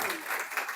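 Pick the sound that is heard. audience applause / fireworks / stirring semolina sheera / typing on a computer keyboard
audience applause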